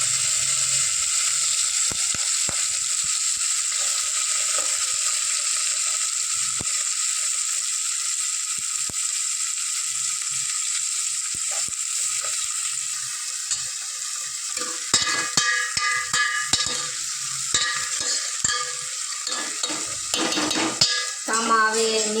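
Hot oil frying steadily in a pan while desi cowpea curry cooks, a continuous bright sizzle throughout, with louder stirring scrapes and clatters of a utensil against the pan in the second half.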